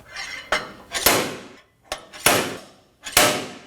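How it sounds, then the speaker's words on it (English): Slide hammer on a wheel hub removal tool yanked against a Nissan Armada front hub, giving three sharp metallic clanks at a steady pace, each preceded by a lighter slide tap, close and alone. "And now we can use the slide hammer part."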